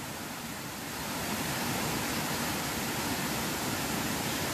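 West Hill Brook flowing below a covered bridge, a constant broadband rush of water, loud and steady, swelling slightly after the first second with no voices present.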